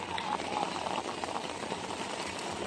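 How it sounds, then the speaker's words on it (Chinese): Heavy rain pours down near a street market in Guangzhou, a dense, continuous hiss of falling water with slight surges, fairly quiet overall and without clear talk. "哇！ 好大雨啊，走啦！"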